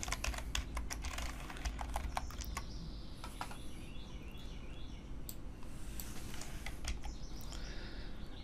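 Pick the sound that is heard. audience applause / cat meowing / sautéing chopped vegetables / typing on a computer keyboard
typing on a computer keyboard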